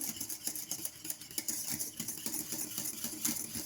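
Steady, rapid scraping and clinking of a whisk stirring custard in a metal saucepan, continuous and fairly close, with no talking.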